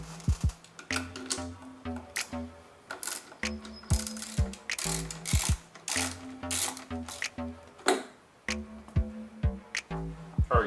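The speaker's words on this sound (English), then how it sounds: "using an 8mm socket, we're going to go ahead and remove the four bolts that are holding on the throttle body" Ratchet fitted with an 8mm socket clicks rapidly in bursts while backing out the four throttle body bolts on a Chrysler 300, crisp and close, with short pauses between runs.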